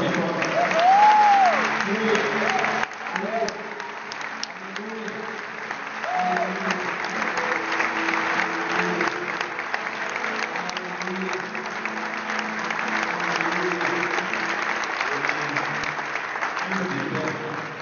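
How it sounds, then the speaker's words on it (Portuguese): Congregation applauding during an evening Sunday church service in Barueri, sustained clapping with voices and music layered underneath for the whole stretch. "Aplauda o Senhor Jesus para a tua vitória."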